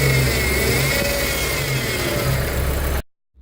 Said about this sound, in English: if I were to give it some revs, you're going to hear a very distinct whirring noise